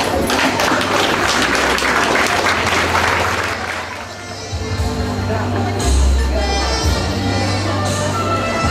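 Rousing applause for a wedding couple, Reed and Nims, at their 2004 wedding, a loud dense round of clapping that eases midway as music and a voice come in beneath the fading crowd.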